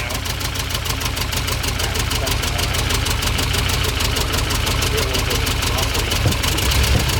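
A Porsche 924 Turbo engine idles roughly and loudly at a steady pace with a constant, uneven pulsing beat while it picks up a cylinder.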